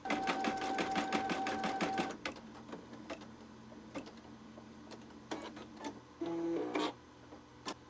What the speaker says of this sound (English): we are going to get going here and embroider some O's and see how we're looking